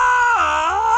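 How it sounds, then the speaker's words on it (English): A high, wavering scream from a character in a video game, loud and sustained for about a second with a rising-and-falling pitch, alone without talk over it. "Oh my god, what was that scream?"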